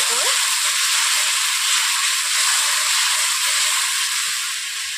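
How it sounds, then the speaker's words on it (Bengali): Water poured into a hot pan of salted nona ruli fish, giving a loud, steady sizzling hiss that slowly eases as the contents are stirred. "প্রথমে আমি খালি জল দিয়ে দিচ্ছি। তারপরে এভাবে আমি নেড়ে নিচ্ছি।"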